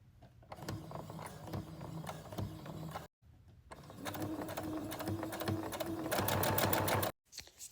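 A sewing machine stitches fabric tabs for a child's book bag, running in steady mechanical bursts that stop briefly, restart and speed up before halting.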